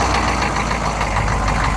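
A squarebody Chevy van's diesel engine, running on fresh red diesel, idles close by with a loud, steady, slightly knocking rumble that stays even for the whole stretch, with no talking.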